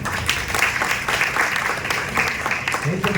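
Applause at a hospital's World Nurses Day celebration, dense crowd clapping that holds at an even level throughout, with a voice briefly audible near the end.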